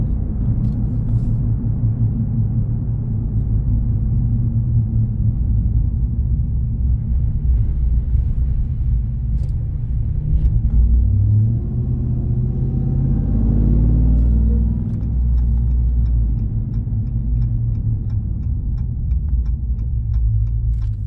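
A 2022 RAM 1500 TRX pickup's supercharged engine rumbles steadily and loudly up close, with a brief rise in revs near the middle before settling back to a deep idle drone.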